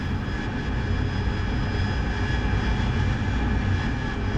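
Steady jet engine roar of a carrier-based aircraft in the DCS World flight simulator during a night ship-strike mission approach, a constant loud drone with no breaks throughout.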